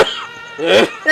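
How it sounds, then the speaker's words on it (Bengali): A man coughs up close: a short, harsh series of two or three rough throaty bursts within about a second. "কদিন আমার কাছে তোমার কাশির শব্দ শুনে চলে আসলাম বাড়ির ভিতরে।"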